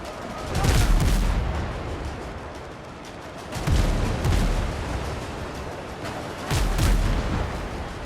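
Heavy cannon shots in the game Windrose during the boarding of an enemy ship, three loud booming blasts spaced a few seconds apart, each with a low rumbling tail, and no talk over them.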